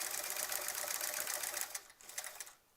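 A sewing machine quilting a Splendid Sampler 2 quilt, its steady rapid stitching hum running quietly for a couple of seconds before faltering and stopping.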